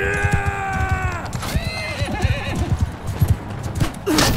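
Horse in a video game gives a long whinny, then hooves clip-clop in an uneven rhythm, with a steady game background underneath.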